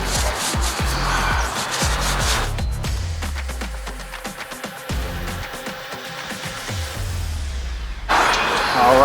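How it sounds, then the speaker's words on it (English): A chrome wheel rim on a Ford Super Duty is wiped down with rubbing alcohol and a cloth, giving close, continuous rubbing and squeaking strokes of varying pace. "I'm going to use some rubbing alcohol, wipe this rim down."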